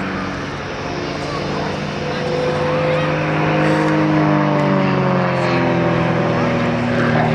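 Royal Jordanian Falcons aerobatic propeller planes performing rolls at the 2011 Waddington airshow, a steady droning engine note with shifting pitch that swells and holds loud across the sky, with a commentator speaking over it.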